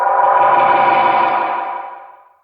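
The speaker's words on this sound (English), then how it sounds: "I want you to listen to the delays. Like, let's add some more repeats so you can actually really hear that." Guitar notes run through Bo's Harmonic Trem/Delay pedal with the repeats turned up, a dense wash of echoing tone that holds steady and then fades away over a couple of seconds, with no voices.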